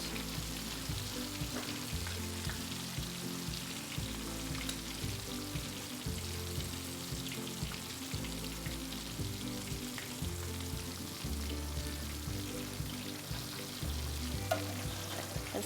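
Catfish fillets fry in hot oil in a pan with a steady, dense sizzle and crackle that runs unbroken throughout, close and even, with no voices over it.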